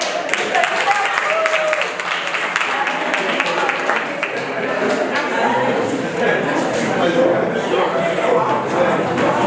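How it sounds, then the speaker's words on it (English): An audience applauds at a masterclass after a contestant's impassioned pitch, a dense, steady wash of clapping that holds throughout, with a voice talking over it. "Give yourself a round of applause."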